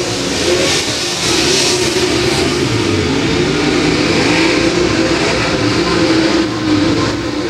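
Race cars roar around Humboldt Speedway during a Friday-night heat race, a loud, continuous engine drone that swells and fades slightly as the pack circles, with no voices.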